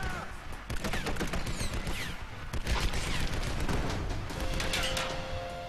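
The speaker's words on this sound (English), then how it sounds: "Yes, I know to fire a grenade" Gunfire and explosive blasts in the 2013 Tomb Raider video game, including grenade launcher shots, heard as dense, loud bursts and booms running throughout over game background sound.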